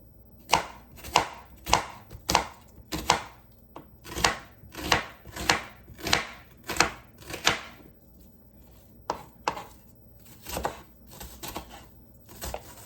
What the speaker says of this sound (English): I'm just going to give them a pretty good chop.